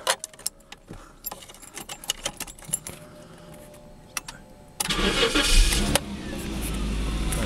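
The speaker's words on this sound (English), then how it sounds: "So if we get in the car and start her up." Jaguar 3.6 automatic saloon being started: keys jangle and faint clicks inside the car, then the engine cranks and catches with a sudden loud roar before settling into a steady, smooth idle.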